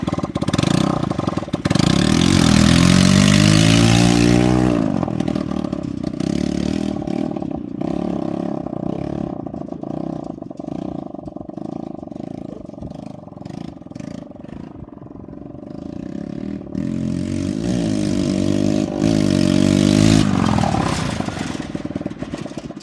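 Modified riding lawn mower capable of 85 mph running during a test drive: a loud, rough, clattering small-engine roar that surges at the start and again near the end, with a quieter, lower stretch in between.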